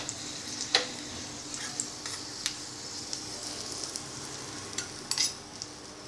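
Cashews and raisins fry in ghee with a soft, continuous sizzle, punctuated by occasional sharp clinks and scrapes of a utensil stirring the pan, close and fairly quiet.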